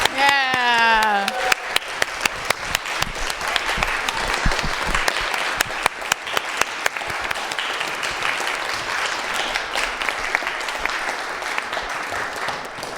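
Kids' coffee house show audience clapping for the crew who put the show together, a loud dense round of applause with sharp individual claps, sustained for most of the stretch after a brief voice at the start.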